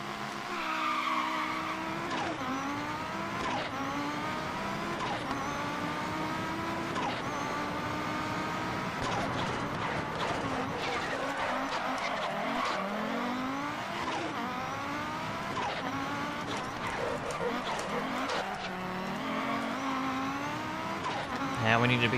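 Rally car engine revving hard through gear changes in a Pikes Peak simulator event, with rising and falling engine pitch and tire squeal through corners. Loud and continuous for the whole stretch, with someone talking over it.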